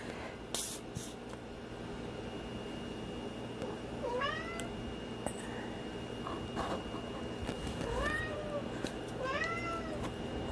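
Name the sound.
cat meowing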